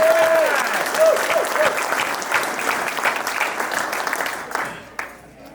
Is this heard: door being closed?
no